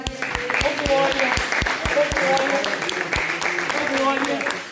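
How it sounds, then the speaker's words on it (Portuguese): Church congregation clapping in a steady, fairly regular rhythm of sharp individual claps, with a voice or singing carrying on over the applause for the whole stretch. "Você que pode aplaudir o nome dele."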